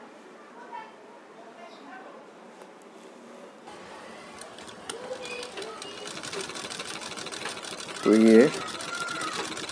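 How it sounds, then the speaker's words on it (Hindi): Umbrella sewing machine stitching after a shuttle hook timing adjustment, a faint rapid mechanical chatter that builds gradually, with someone speaking over it. "अब हम सिलाई भी कर कर देख लेंगे कि हमारी सिलाई बराबर से आ रही है या नहीं।"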